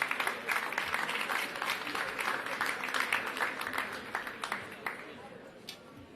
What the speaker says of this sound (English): We could give some applause for the people who are doing their jobs